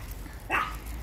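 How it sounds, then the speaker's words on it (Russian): One short yappy bark from a small dog, either a chihuahua or a toy poodle, on an evening walk, heard once at mid distance against a low rumbling outdoor background. "И мы с нашими собачками гуляем."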